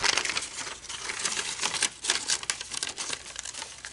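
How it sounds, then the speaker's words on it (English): Paper being folded by hand into a gift bag crinkles and rustles close up in uneven bursts of crisp crumpling with short pauses, no voices. "Fold the sides in. Fold the top."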